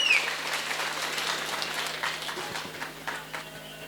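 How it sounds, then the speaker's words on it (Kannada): An audience applauds children's Bharatanatyam dance at a Brahma Kumbhabhisheka temple festival. The clapping is steady and moderately distant, fading slightly over a few seconds with no talking. "ಒಂದು ಜೋರಾದ ಚಪ್ಪಾಳೆ"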